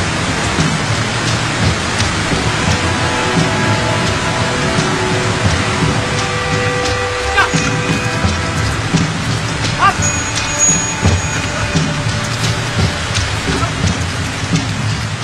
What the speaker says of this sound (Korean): 사흘째 계속 비가 내립니다.